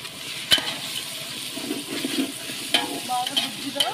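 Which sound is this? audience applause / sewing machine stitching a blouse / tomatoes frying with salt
tomatoes frying with salt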